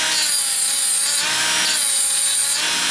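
A tungsten electrode is ground on a Power Point tungsten sharpener, giving a loud, steady high-pitched grinding whine that holds without a break and wavers slightly as the electrode turns.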